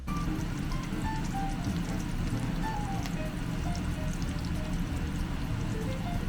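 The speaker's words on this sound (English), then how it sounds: "I have the pan heating up, and I'm gonna be using avocado oil." Avocado oil poured into a frying pan heating on the stove, a steady low trickling and faint sizzle that runs evenly throughout with no talking.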